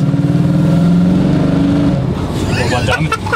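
Classic race car with an unevenly idling engine, a loud, lumpy low rumble that runs steadily at first, then turns rougher and more broken as voices talk over it.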